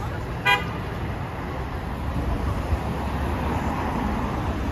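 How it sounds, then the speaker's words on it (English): Steady city traffic rumble in Lower Manhattan, New York, with one short car horn toot sounding early and a faint thump later, no talk over the continuous road noise. "Lots of traffic most of the time, as if it's rush hour."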